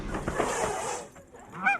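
A goose honks loudly and close, followed by a harsh hiss and a final short honk.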